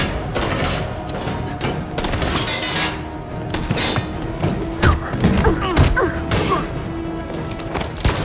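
Gunfire rings out in the video game Detroit: Become Human, with close shots and thuds in irregular bursts over a tense game soundscape, and sharper impacts clustered in the later seconds.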